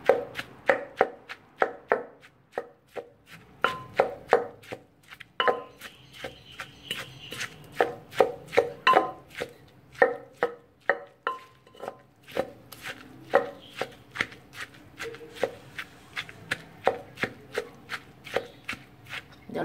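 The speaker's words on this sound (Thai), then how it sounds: "ตำเลย" Mushroom chili dip is pounded in a mortar, a close series of sharp, rhythmic thuds repeating steadily, with short pauses between runs of strikes.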